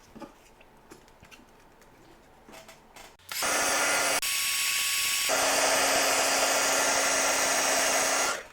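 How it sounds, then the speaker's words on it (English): A craft heat tool blows hot air to set embossing on a card, switching on after a few seconds of quiet clicks and then whirring loudly and steadily at close range until it cuts off. "And I'm going to set it with a heat tool."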